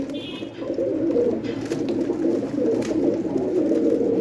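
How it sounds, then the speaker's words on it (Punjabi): Several pigeons coo steadily at close range, a dense overlapping murmur of low throaty calls with brief fluttery noises, no voices over it. "ਇਹ ਤਿੰਨ ਕਰਾਂ ਦੇ ਕਬੂਤਰ ਹੋਏ ਨੇ ਆਪਣੇ ਕੋਲ"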